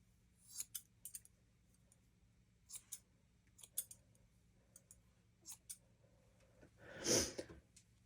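Scissors snipping fur while grooming a dog's head and ears, with sharp close clicks in scattered short bursts and a louder rustle near the end.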